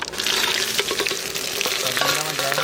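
Cumin seeds and onion sizzle and crackle loudly in hot oil in a clay pot over an outdoor fire by a riverbank, a steady dense frying hiss with scattered pops and some stirring, with a brief faint tonal sound near the end.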